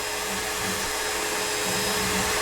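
Loud steady whooshing suction roar of a carpet extractor pulling soapy water from a sailboat's interior carpet, continuous and close, with no speech over it.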